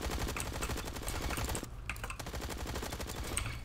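Rapid automatic gun hipfire in Roblox Bad Business, a steady loud stream of close-range shots that pauses briefly midway and then resumes.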